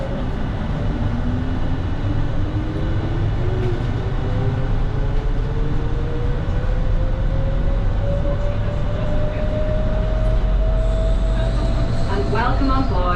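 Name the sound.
Gatwick Airport shuttle train running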